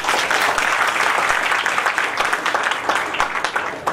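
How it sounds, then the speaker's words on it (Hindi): Audience at a Jeevan Vidya wedding-rite gathering bursting into loud, dense applause, many hands clapping continuously close by, fading slightly toward the end. "एक बार जोरदार तालियां।"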